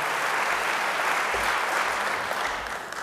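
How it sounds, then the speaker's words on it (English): An audience claps for a group of honored teachers at a Douglas County Teacher of the Year ceremony. The applause is sustained, full and even, easing slightly toward the end. "Let's give one more big round of applause to this very wonderful group."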